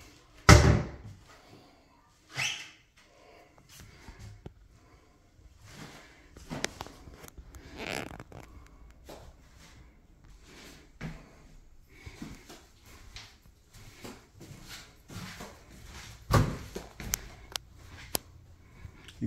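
Interior doors in a house under inspection are opened and shut, giving several sharp knocks and slams spread out with quieter creaks, latch clicks and footsteps in between.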